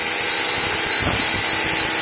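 An angle grinder cuts through PVC pipe with a steady, loud, close whining roar that holds evenly throughout, with no talk over it.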